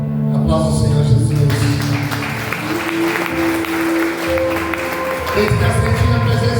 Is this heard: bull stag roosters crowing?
no